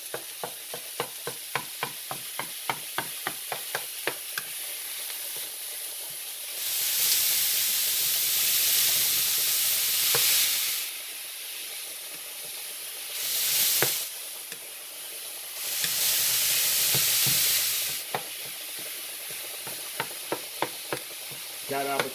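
Food being broken up and stirred in a frying pan for a potato casserole, with a run of rhythmic scraping taps giving way to loud bursts of sizzling and hissing steam that swell and fade several times.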